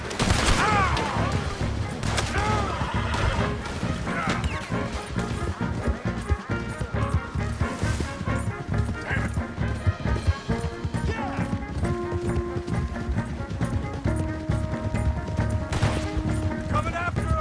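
In Red Dead Redemption 2, a horseback chase fills with rapid volleys of gunfire over pounding hooves, with shouting voices and dramatic music underneath throughout.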